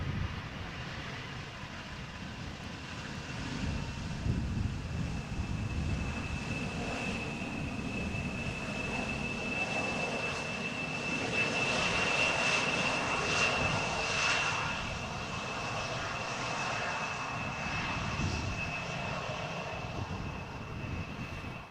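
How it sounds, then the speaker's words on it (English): An Embraer 175 airliner touches down at Amsterdam Schiphol, its engines a broad, sustained roar with a thin steady whine, heard from a distance for over twenty seconds without speech. "Another Embraer 175 just touched down."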